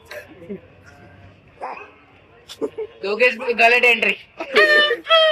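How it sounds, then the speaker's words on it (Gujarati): A dog yips and barks in short bursts, growing louder toward the end, mixed with people talking nearby. "અહીંયા બીજો એક કૂતરો બસે છે"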